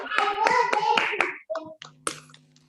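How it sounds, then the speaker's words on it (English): Participants in an online meeting clap for the panelists after unmuting: a handful of sharp, uneven claps over a second or so, followed by brief voice fragments and scattered taps. "Let's unmute and give them a round of applause"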